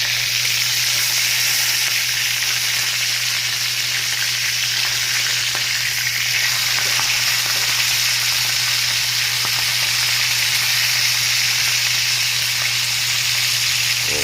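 Skipjack tuna fries in hot oil, a loud, dense and unbroken sizzle that stays steady from start to finish, close by, with no voices and a faint low hum beneath.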